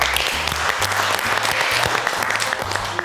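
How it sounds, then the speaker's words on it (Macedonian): Dense, steady applause fills a Macedonian TV cooking competition studio as a chef is welcomed, with low musical tones running underneath the continuous clapping throughout. "Голем аплауз Златко Пејковски"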